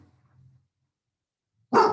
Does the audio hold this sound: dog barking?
yes